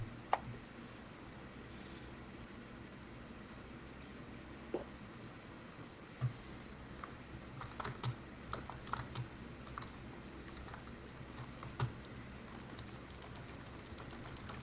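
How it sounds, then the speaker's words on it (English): Soft, rapid keystrokes on a computer keyboard clatter in irregular bursts against a quiet room background, typing during a relaxed live-stream hangout, with no talking over it. "What are you typing over there?"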